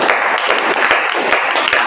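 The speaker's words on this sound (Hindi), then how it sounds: "इनके लिए भी आप ताली बजा दीजिए।" Class 12 chemistry students in a classroom clap for a classmate, a brief burst of dense, lively applause with a few sharper individual claps standing out.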